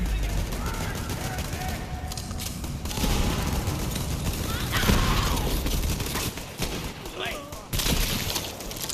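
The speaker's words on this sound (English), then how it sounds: "They still shooting at me." Rapid gunfire bursts and weapon mechanisms from the video game Borderlands 3 rattle through the clip alongside crashes and impacts, with a player's voice talking over the action.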